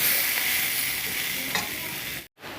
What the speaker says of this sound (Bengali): এবার 1 চামচ জিরে আর ধনের গুঁড়ো দেবো। এটা আবার কিছুক্ষণ কষাবো।